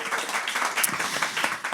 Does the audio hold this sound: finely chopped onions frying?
no